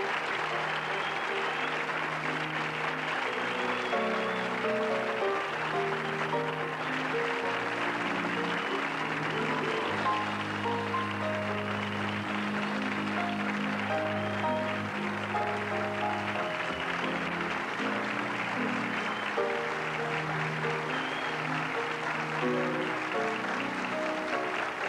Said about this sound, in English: we could do an hour of applause very easily, Miss Bergman